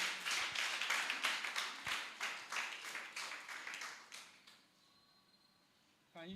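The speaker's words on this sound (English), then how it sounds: "A round of applause for him" Audience at a business export summit claps, a dense, fairly loud burst of hand claps that fades out over several seconds to near quiet, with a brief louder sound at the very end.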